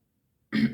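A single short cough, close and fairly loud, bursting in abruptly after half a second of silence and lasting to the end.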